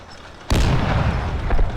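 A sniper rifle fires in a video game, heard as a single sudden, loud and close crack that rolls straight into a long, dense booming reverberation. A faint later pop sits within the tail.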